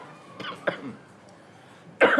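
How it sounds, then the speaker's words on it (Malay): Several short coughs, a couple of quieter ones followed by a louder, sharper cough at the end, close to the listener. "Batuk lah gatal"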